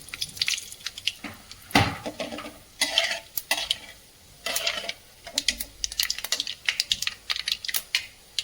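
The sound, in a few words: stirring tempering with a spoon in a pan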